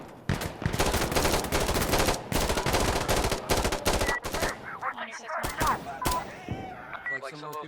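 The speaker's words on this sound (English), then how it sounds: "Pressing fire. I'm kind of really loving this gun with this," Rapid automatic fire from a laser-sighted gun in Insurgency: Sandstorm, a dense, loud burst of shots for several seconds that then thins out into scattered clicks and beeps, with a voice speaking over it.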